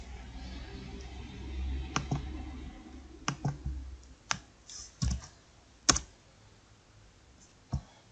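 Several sharp, isolated clicks sound at irregular intervals over a faint low hum in a quiet room, like a computer mouse button being pressed to confirm a dialog.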